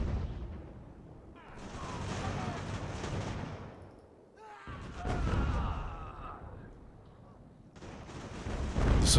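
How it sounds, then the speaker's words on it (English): Artillery fire in Ultimate General: American Revolution during a snowy battle: heavy booming blasts and rumbling volleys in two loud surges separated by a brief lull, with battle noise filling the background. "you're getting shot at from artillery"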